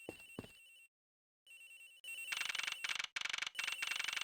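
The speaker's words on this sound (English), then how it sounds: "The ringing's coming from somewhere in here, sir." A cell phone rings in the Ace Attorney Investigations video game, sounding as repeated electronic ringtone bursts with short gaps, loud and close, with no one speaking.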